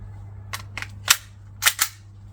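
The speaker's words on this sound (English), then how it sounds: "I'm shooting from just over 6 meters" Springfield XDM replica BB pistol firing on gas at a target just over 6 meters away: about five sharp, snappy cracks, some in quick pairs, over a steady low hum.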